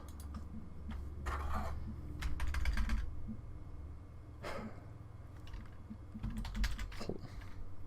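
Bursts of close computer keyboard typing, quick clattering key presses in uneven clusters with short pauses between, over a low background hum.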